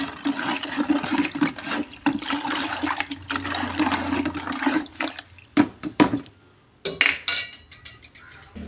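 Potash being stirred vigorously into water while making an organic fertilizer mix, with sloshing and splashing water and occasional clinks of a container, ending in sharper bursts of stirring and no talk.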